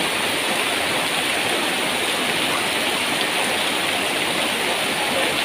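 Heavy rain beats down steadily during a sudden flood with floodwater already waist-high on a child, a loud, unbroken roar of falling and rushing water with no voices.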